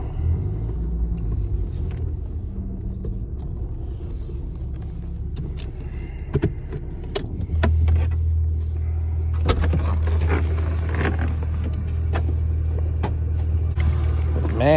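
A 1997 Ford Thunderbird LX driving, with a steady low engine and road rumble throughout that deepens partway through, plus occasional clicks and knocks inside the cabin.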